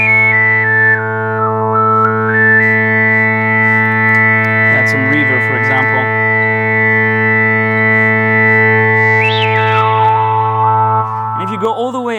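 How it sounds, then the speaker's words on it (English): A loud, sustained Yamaha Montage synthesizer tone with layered harmonics washes out in heavy reverb, its pitch sweeping up and down, with a brief warbling burst in the middle. "That's some reverb, for example."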